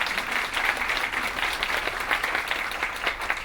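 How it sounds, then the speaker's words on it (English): A conference audience applauds steadily, a dense wash of many hands clapping without a break, fairly close and continuous with no talk over it. "I really want to give Tammy Hoy a round of applause for the great work she's done in planning the conference."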